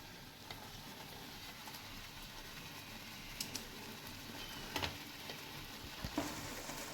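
Grated ginger cooks with liquid jaggery in a pan for ginger candy, a steady low sizzle with occasional light stirring taps, no voices.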